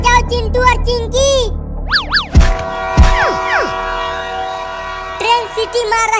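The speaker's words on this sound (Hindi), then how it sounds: "ट्रेन सीटी मार रही है" A train at a station sounds a couple of sustained horn blasts in an animated comedy scene, with cartoonish swooping effects and child-like voices around it.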